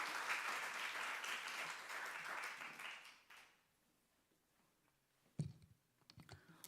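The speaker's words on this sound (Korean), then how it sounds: "박수로 맞아주시기 바랍니다" An audience at a church evening service claps to welcome a speaker to the front. The applause holds for about three seconds and then dies away, leaving quiet room tone with a few sharp clicks and knocks.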